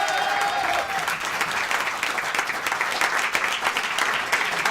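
Sustained audience applause at a French televised candidate-contest show, a dense, steady wash of many clapping hands filling the room, loud and close throughout with no talk over it.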